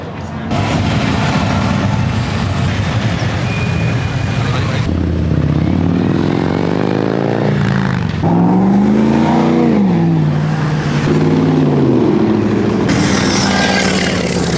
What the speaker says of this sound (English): Just rode the Harley Davidson Breakout. That thing was cool.